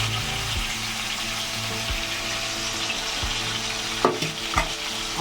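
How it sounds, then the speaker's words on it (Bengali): Bhangor fish paste pieces fry in hot oil in a home kitchen, a constant close sizzle and crackle, with a couple of brief louder clinks near the end and no talk. "এবার মাছটা ভাজা করে নেব"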